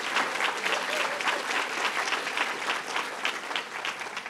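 An audience applauds Deputy Speaker Hooper at Governor Cuomo's announcement event in Hempstead, with steady, dense clapping from a sizable crowd sustained evenly throughout, no voices on top.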